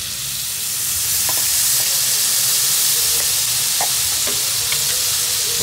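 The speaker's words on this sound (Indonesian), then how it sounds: "Goreng sampai merata." Egg frying in oil in a pan gives a loud, continuous sizzle and hiss, with a few light clicks of stirring scattered through it and no voices.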